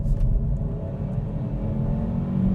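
A 2025 Hyundai i30 mild hybrid accelerates in sport mode, its engine a steady low rumble and whir heard from inside the car, close and continuous, with no one speaking.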